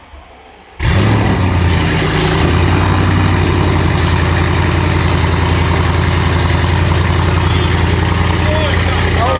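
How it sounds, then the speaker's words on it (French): A car fitted with a Scorpion aftermarket exhaust cold-starts abruptly after a quiet moment, then holds a loud, deep, rumbling idle with a steady high-revving drone that stays close and dominant to the end. "Je ne sais pas si le son sera différent avec cet échappement Scorpion."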